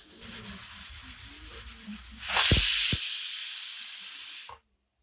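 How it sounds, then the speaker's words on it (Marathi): A harsh, rushing hiss of steam venting from a pressure cooker whistle swells in and holds steadily for a couple of seconds before cutting off abruptly into silence. "शिट्टीतलं सगळं प्रेशर गेलो काय बघायचो"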